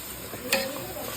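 Mixed vegetables and soybean chunks stirred and sautéed in a pan for a mess meal, a steady close sizzle with a brief scraping stir near the middle, no voices.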